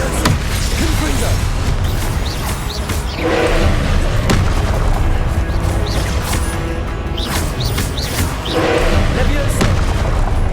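Confringo explosion spells in a Harry Potter video game, repeated booming blasts and crashes over a dense, loud background, with a voice speaking at times among them.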